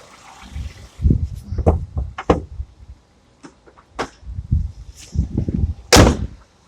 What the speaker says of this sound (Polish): zamknę tą maskę